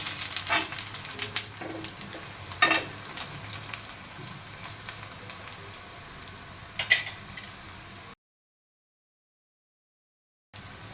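Mixed-flour thalipeeth with ghee frying in a pan after being flipped, a soft steady sizzle with a few sharper crackles and spatula taps, close and fairly quiet, cutting to brief silence near the end.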